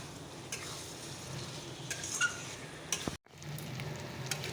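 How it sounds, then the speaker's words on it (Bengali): Mutton pieces fry in a spiced masala as they are stirred, a soft steady sizzle with occasional scraping strokes and a brief break in sound, fairly quiet and with no voices. "মাটনটা দিয়ে দেবো আবার দিয়ে ভালো করে কষিয়ে নিই"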